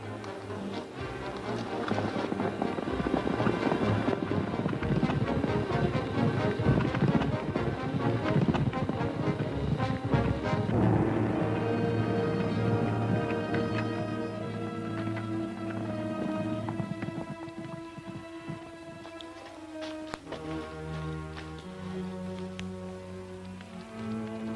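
A horse's hooves clip-clop steadily in a 1953 western film scene, heard under a full orchestral music score.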